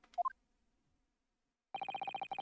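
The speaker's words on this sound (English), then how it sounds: "Oh, I'm getting a phone call!" Telephone rings with an incoming call in The Great Ace Attorney Chronicles, a rapid electronic trill of repeated bursts, loud and close, after a few short chirpy game blips.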